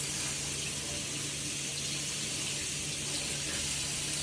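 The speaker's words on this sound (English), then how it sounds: "Then I can go ahead and rinse off my hands, wet them completely up to my wrist." Tap water runs steadily into a sink while hands are rinsed up to the wrists during medical handwashing. A constant, close hiss of flowing water with no pauses or voices.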